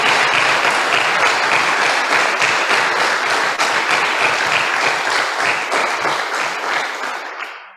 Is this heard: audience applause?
yes